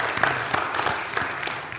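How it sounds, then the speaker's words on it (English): An audience claps together for itself after a motivational talk, with a dense, steady round of applause throughout and scattered sharper individual claps, with no voices over it. "So give all of yourselves a hand if you would."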